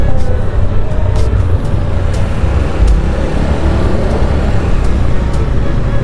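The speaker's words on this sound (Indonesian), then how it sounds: "Dan suasana jalannya ya banyak kendaraan." Heavy traffic on a narrow, congested road on the way to Trawas, a continuous loud rumble of cars, buses and trucks with low engine drone and occasional brake hiss, no voices heard.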